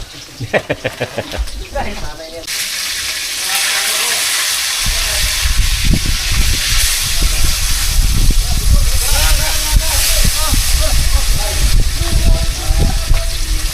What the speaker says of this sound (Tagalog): Mainit na tubig!